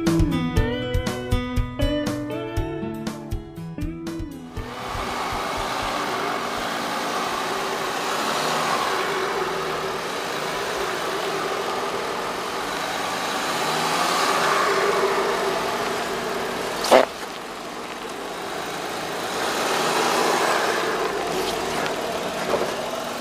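Steady mid-pitched drone of a Volkswagen Touareg TDI diesel engine running, following a short burst of music, with the hum holding evenly and swelling slightly before a single sharp knock partway through.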